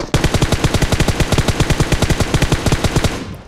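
Automatic gunfire in the PUBG Mobile battle royale video game: a loud, steady, rapid stream of about two dozen shots firing without a break for several seconds before cutting off.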